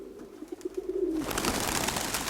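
A domestic pigeon gives a short series of soft, low coos close by, followed by a louder burst of rustling or wing noise.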